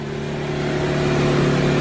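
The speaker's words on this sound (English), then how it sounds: "I got Tony still vacuuming" A vacuum cleaner runs steadily during detailing of a 2013 BMW 328i, a constant droning hum with a whining hiss above it, fairly loud and close, with no talking over it.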